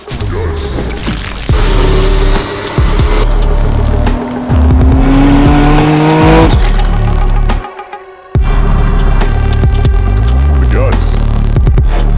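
A Nissan Skyline R32 sedan with GTR running gear sits with its engine running, a loud steady mechanical drone with rising revs and a brief drop-out near the end, carrying on as a continuous throb throughout.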